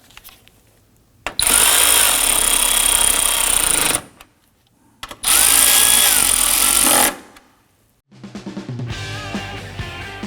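A power tool whirs in two sustained, loud bursts with a short quiet gap between them while tightening the air filter box bolts on a 2003-2014 Volvo XC90, followed by a softer run of clattering and mechanical noise.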